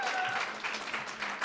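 An audience at a women's poetry reading applauds the poet Lydia, a short, dense burst of sustained clapping, with a faint voice underneath.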